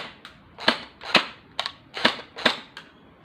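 Jund/TacToys M4 V10 CQB airsoft rifle fired in single shots outdoors in wet conditions, five sharp snapping pops with a couple of softer clicks between them, fairly close and evenly spaced with no talking.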